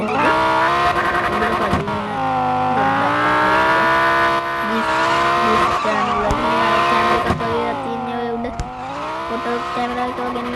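A video game car drives hard with engine revving and long tire skids, the pitch swooping up and down through repeated squeals, loud and continuous.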